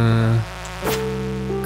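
Insects buzz in a mine level of Stardew Valley, a steady drone that swells briefly near the middle over low looping game music, with no talk.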